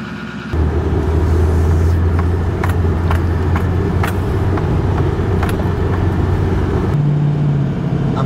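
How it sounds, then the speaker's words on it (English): Pickup truck engine idling steadily after starting, a close, even low rumble holding for several seconds with a few light clicks and taps over it, shifting slightly in pitch near the end. "I started my truck"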